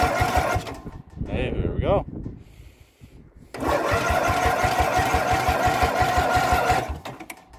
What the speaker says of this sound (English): Let's see if it will crank by the key.